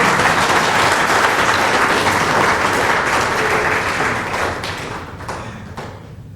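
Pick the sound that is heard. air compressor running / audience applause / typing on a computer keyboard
audience applause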